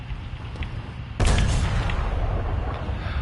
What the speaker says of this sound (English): Is that a massive cannon I see?